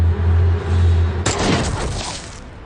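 Rapid burst of gunfire from a Japanese film, a dense volley of shots breaking out suddenly after a low rumbling hum and rattling on for about a second before trailing off, loud and close.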